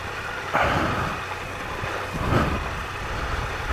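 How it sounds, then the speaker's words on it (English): A Triumph Explorer motorcycle engine runs at low revs with no throttle applied as the bike rolls along a rural byway. It is a steady, close low rumble with two brief swells in loudness. "Just letting the revs pull the bike along, not applying any power at all"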